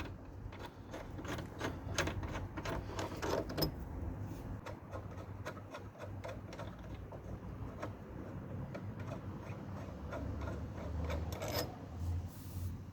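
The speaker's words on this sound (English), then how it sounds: "I'm going to just take this bottom bolt out for now." Bolt being worked out of the brake caliper on a Lexmoto LXR 125 motorcycle, a continuous rapid ratcheting and scraping rasp close up, steady and fairly quiet throughout.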